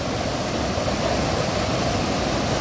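Return Creek in the High Sierra near Benson Pass rushes with snowmelt, a loud, steady broadband roar of fast water with no breaks or voices, close and enveloping.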